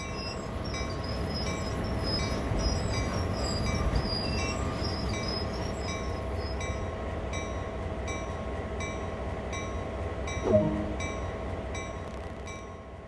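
GP38-2 diesel locomotive rolling along in the Train Sim World 2 video game, a steady rumbling engine drone with faint wheel tones and a brief squeal near the end, no talk.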